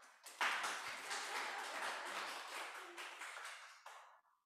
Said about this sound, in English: a round of applause to Polina and Anna